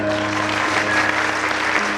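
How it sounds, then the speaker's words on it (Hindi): Audience applause for a comic poet at a Hindi comedy poetry gathering, a steady dense wash of clapping filling the whole stretch with a faint hum beneath. "इनके लिए जरा जोरदार तालियां।"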